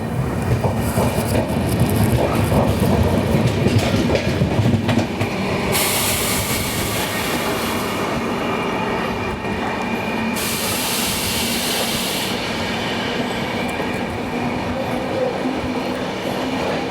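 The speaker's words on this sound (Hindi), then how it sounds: "यहाँ पे हमारे ट्रेन की क्रॉसिंग हो रही है पुणे अमरावती एक्सप्रेस के साथ।" Vidarbha Express train running while crossing the Pune Amravati Express, a loud continuous rumble and clatter of wheels on rails from on board, with a rushing burst as the other train passes.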